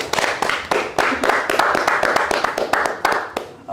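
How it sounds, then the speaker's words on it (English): A small studio audience claps for two guests on a podcast set. The clapping comes as a loud, close, steady patter of individual claps lasting a few seconds, with light voices underneath. "Can we give a round of applause for each other, please?"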